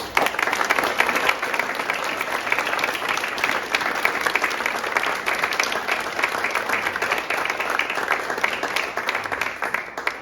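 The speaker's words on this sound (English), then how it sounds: "I would like to just give this wonderful cast a round of applause again" A theatre audience applauds the cast of a stage production, Requiem for Anzac Days, with a continuous, even wash of many hands clapping, moderately loud and unbroken throughout.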